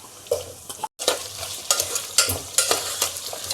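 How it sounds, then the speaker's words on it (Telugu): Ginger pieces frying in a pan with coriander seeds and cumin, a steady close sizzle with stirring scrapes and a brief break near the start, no talking. "ఇదిగోండి అల్లం ముక్కలు ఫ్రై అవుతున్నాయి కదా"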